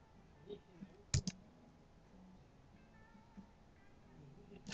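A computer mouse clicks a few times while working in Photoshop, with a quick cluster of sharp, close clicks amid faint background noise and otherwise quiet pauses.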